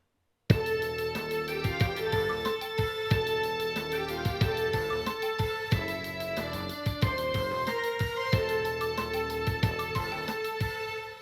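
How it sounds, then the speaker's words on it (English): A four-bar hip-hop beat loop from a track, steady kick and snare hits under layered sustained tones, repeating evenly at full volume with no voices. "the same 4-bar loop is running under the entire rap"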